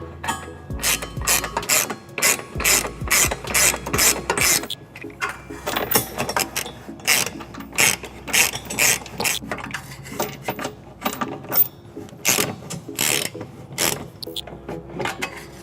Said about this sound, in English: so that I can get a 19mm socket on these guys to tighten them down